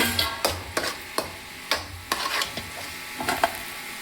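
Vermicelli fried in ghee gives a soft, steady sizzle, broken by irregular scraping and clattering strokes of a spoon stirring through it. No voices are heard.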